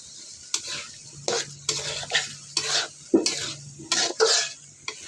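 Small kechki fish being stirred and fried in oil in a pan produce soft sizzling under repeated scraping strokes of a spatula, about eight bursts in a loose rhythm, close by and alone.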